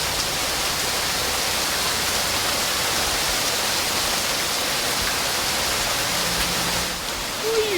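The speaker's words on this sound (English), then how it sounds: "it's just the rains. It's just the rain." Steady rain pours down in a constant even hiss of drops, close and uninterrupted, dipping briefly near the end.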